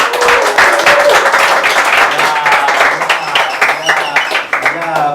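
Studio audience applauds and cheers a female singer on a Haitian television debate show, loud sustained clapping filling the room with crowd noise and voices mixed in.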